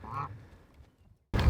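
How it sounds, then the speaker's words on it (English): A single honking turkey call sounds faintly at the start and then fades, after which a sudden loud rumble bursts in at the end. "We got turkeys."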